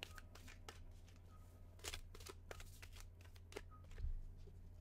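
Tarot cards being shuffled and handled at close range, with a steady run of quick riffling flicks and soft slaps, a few sharper snaps standing out, and no talk.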